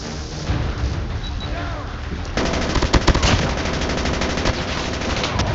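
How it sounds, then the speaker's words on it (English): Rapid automatic gunfire from a Call of Duty match, loud and close, with sustained bursts building in intensity after a brief lull, while a player's voice talks over the shooting. "Bro, I was shooting at him."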